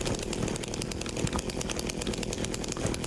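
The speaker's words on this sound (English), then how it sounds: "This chainsaw was completely unexpected." Chainsaw roaring steadily in Silent Hill 2 Remake, a continuous buzzing engine drone that holds at full volume for the whole stretch without pausing.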